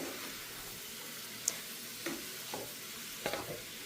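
Chayote thoran stir-fry cooks in a pan with a faint, steady sizzle, while a few soft taps and scrapes of a spoon stirring the vegetables stand out.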